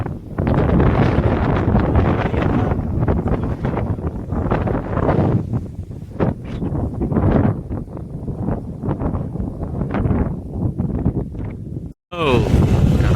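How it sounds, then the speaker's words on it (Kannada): Strong wind blows outdoors in a village and buffets the microphone in loud, uneven roaring gusts. People talk under the wind noise, and near the end there is a brief cut. "ಎಂತ ಗಾಳಿ ಇದೆ"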